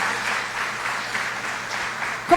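Church congregation applauding during a worship service, a steady wash of clapping heard from within the room for a couple of seconds, with a brief louder knock at the end.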